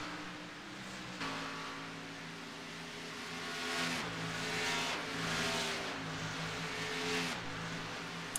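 Race car engines in an iRacing sim race at Las Vegas, a steady layered engine drone with rising and falling revs as cars pass through a turn, with no talk.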